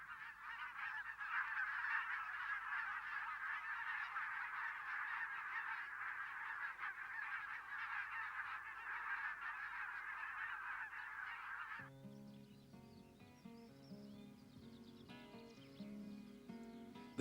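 Flock of geese honking continuously in a dense, loud chorus for most of the span, then giving way abruptly to music near the end.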